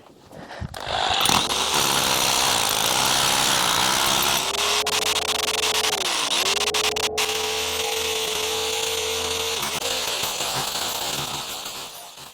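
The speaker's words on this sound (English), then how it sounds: "First job today, SDS drill." A heavy SDS rotary hammer drill runs loud and close for about ten seconds, a harsh grinding whine that dips briefly midway before continuing and winding down.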